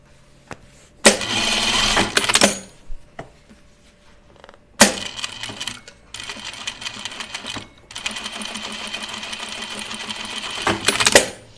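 A sewing machine runs in loud, busy bursts, broken by clicks and knocks as the bobbin is taken out and put back in, then stitching resumes steadily, near and alone without voices.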